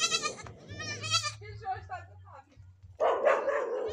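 Goats bleat while being herded out of a pen, several calls overlapping with people talking and shouting instructions, and a louder burst of bleating near the end.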